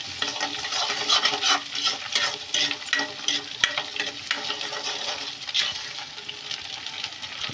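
Egg being stirred and fried in a pan for a vegetable noodle dish, with a steady close sizzle and repeated scraping strokes of a spatula throughout, with no talking.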